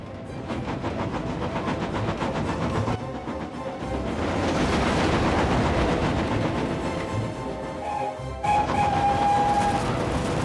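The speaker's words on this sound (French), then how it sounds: "Spencer roule tellement à fond les wagons pour essayer de gagner un peu de temps et d'arriver en avance" A cartoon train engine rushing along the rails pulling wagons, a loud continuous rumble and clatter with a brief tonal whistle near the end, no talk.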